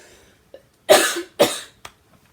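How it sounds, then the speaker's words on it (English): A short coughing fit up close: two loud, harsh coughs in quick succession, followed by a smaller cough and brief quiet. "had a coughing fit."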